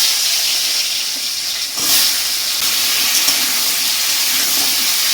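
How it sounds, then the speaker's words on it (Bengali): Potatoes frying in hot oil with cumin seeds, giving a loud, steady, broad sizzling hiss that runs unbroken throughout, with a brief louder surge near the start. "তেলটার মধ্যে আলুটা দিয়ে দেবো"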